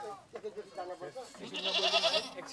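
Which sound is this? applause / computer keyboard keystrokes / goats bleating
goats bleating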